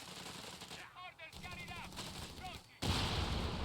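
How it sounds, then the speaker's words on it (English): A Sherman tank fires in Company of Heroes 3 amid gunfire and battle noise, with a heavy loud blast near the end that swells into sustained rumble. "Sherman shoots at the wrong target here."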